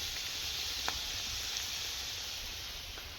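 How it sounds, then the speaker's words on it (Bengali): Potatoes fry in a pan for an egg curry, a faint, steady broadband sizzle with a few soft clicks and pops, continuous throughout and without any voices. "ডিমের ঝোলের জন্য আলু ভাজছে মা।"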